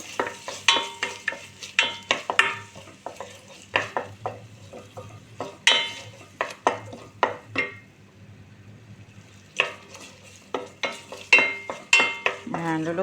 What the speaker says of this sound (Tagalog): Lulutuin po natin guys yung tomato paste ng mga ilang minuto